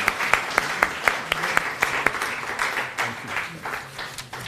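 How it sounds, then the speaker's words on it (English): An audience at a university graduation ceremony claps steadily, a crowd's applause with some sharper individual claps standing out, sustained and fairly close. "Please give him a warm round of applause as he comes to the stage."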